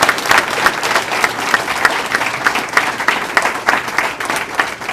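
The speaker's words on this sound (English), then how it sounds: "So give them another applause." A crowd at the 2016 Haysville Bicentennial Celebration Pageant applauds the pageant girls with loud, sustained clapping that holds steady with no one speaking.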